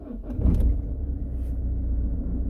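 A Peugeot Partner / Citroen Berlingo engine cranks and catches, then settles into a steady low idle rumble, close and loud with no talking.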